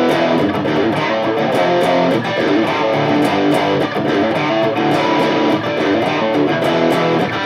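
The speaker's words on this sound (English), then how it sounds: "a really cool drop D riff that's really easy to do, and the riff in the song we're going to talk about sounds like this" A distorted electric guitar tuned to drop D plays a loud, driving riff from a song, with steady repeated rhythmic chugging and no voices over it.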